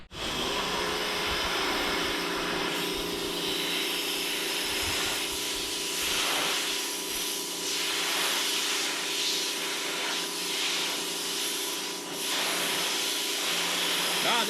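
Pressure washer fitted with a standard fan nozzle spraying a metal roof, a steady loud broadband hiss running continuously with slight surges and no talking.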